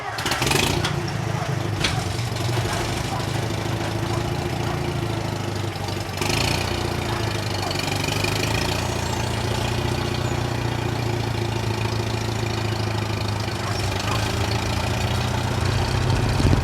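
A gasoline International 424 tractor engine idles steadily, a low, even rumble with a slight knocking pulse that runs unbroken and close for the whole stretch, with no talk over it.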